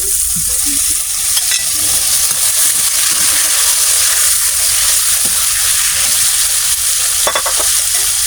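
Shrimp frying in a pan of crushed tomatoes gives a steady, close sizzle throughout, with a few scrapes and clinks of a utensil stirring now and then.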